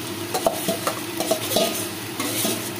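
Chickpeas and potatoes being stirred in masala in a pan, with a soft sizzle and a series of clinks and scrapes from a spoon against the pot at an uneven rhythm.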